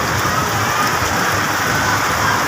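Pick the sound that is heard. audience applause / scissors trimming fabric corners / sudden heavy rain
sudden heavy rain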